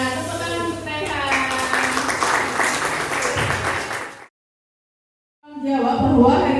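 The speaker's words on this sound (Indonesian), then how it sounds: "Tepuk tangan untuk Rehan" A classroom of students applauds a classmate: a few seconds of mixed clapping, with talking or cheering woven through, a brief silent gap, then the sound returns.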